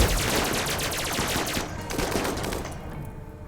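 Dense, rapid volleys of gunfire from a RimWorld battle with the RiftWorld mod crackle continuously and loudly, overlapping shots forming a sustained fusillade that eases slightly toward the end.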